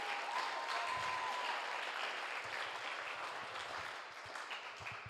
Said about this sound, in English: let's just give them a round of applause just one more time as our appreciation.